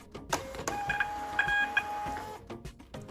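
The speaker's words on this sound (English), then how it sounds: "My goodness, this printer is super fast." A Neflaca thermal shipping label printer runs off a 4x6 label in one quick, steady whirring feed, close and clear, with short mechanical clicks at the start and finish.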